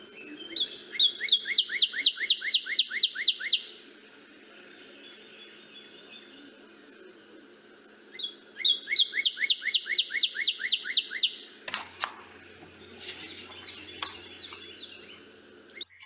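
Loud, ringing whistled bird song in two long runs of rapid repeated slurred notes, with quieter chips and a brief clatter between; a male northern cardinal singing in winter.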